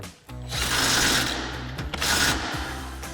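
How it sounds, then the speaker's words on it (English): An impact wrench with a 19mm socket drives a bolt tight during a 4-inch suspension lift install on a Silverado 1500, two loud, close, rapid hammering bursts back to back with a brief pause between them. "we'll grab our 19mm socket on our impact and tighten this back down"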